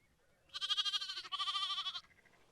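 A pair of young Jacob sheep lambs bleating, two loud, close wavering calls back to back, then quiet.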